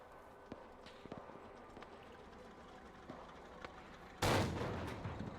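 In a war video game, a tank fires its gun once in a sudden heavy boom with a fading rumble, following scattered faint distant shots and thumps.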